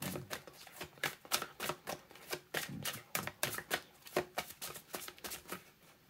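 Tarot cards are handled and laid out on a surface, a quick series of sharp, close flicks and slaps in an uneven rhythm, with no voices.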